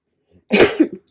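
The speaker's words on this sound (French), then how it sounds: "Excusez-moi, je vais tousser." One short, loud cough close to the microphone, with a small second burst at the end, in an otherwise silent room.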